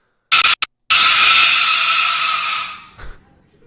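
A pet cockatoo screeching indoors, one long loud harsh shriek lasting about two seconds, preceded by a few short sharp squawks and trailing off.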